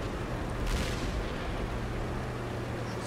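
A Skoda T50 tank fires its cannon in a video game: one deep, booming shot that rings out over a low engine rumble, followed by a steady mechanical drone.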